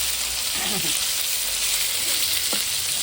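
Fish frying in hot mustard oil in a home kitchen, a dense continuous sizzle with brief bubbling pops and a stirring scrape, close and steady with no voices.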